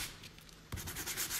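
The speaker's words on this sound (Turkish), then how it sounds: "Bir yerde az bırakın, bir yerde çok zımparalayın." Sandpaper rubs over dried stencil relief paste on an eagle-themed decorative panel, making a steady gritty scraping that grows stronger halfway through, close up with no talk.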